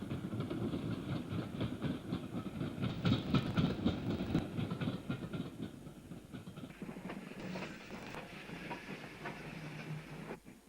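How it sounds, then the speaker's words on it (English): A 2-BIL electric multiple unit pulls into Lewes station on a service from Seaford, its wheels clattering over rail joints with a steady rumble that eases as it slows, ending in a hiss and squeal of brakes. "At Lewes, a 2-bill electric unit arrives at the station on a service from Seaford."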